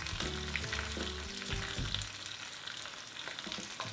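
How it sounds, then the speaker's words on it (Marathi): Green chilies and peanuts crackle and sizzle in hot oil for a tempering in a home kitchen, a steady close frying hiss with sharp pops, no talking. "आता मी मिरच्या घालते मिरच्या छान खरपूस भाजल्या गेल्या पाहिजे"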